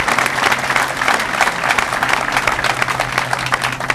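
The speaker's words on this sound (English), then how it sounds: "So a round of applause for the leadership of your legislative delegation." An audience at a middle school ribbon-cutting ceremony applauds steadily, with many hands clapping at a moderate distance and no break.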